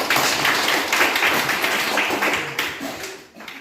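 Participants in a classroom-style discussion session applaud a presenting group, a steady dense patter of many hands clapping close by that tapers off near the end.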